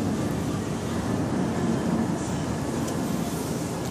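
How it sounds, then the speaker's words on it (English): A train rumbles past outdoors as a steady loud roar of wheels and carriage noise, continuous throughout with no speech. "Get ready to get on this train before I miss it."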